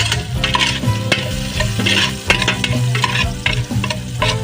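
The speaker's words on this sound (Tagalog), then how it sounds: "Lagyan na natin guys to, yung ating laman ng baka. Sangkutya natin ng konti guys." Tender boiled beef for beef pares frying in a pan while being stirred, a steady loud sizzle broken by repeated scraping strokes of the utensil, close and continuous with no talking.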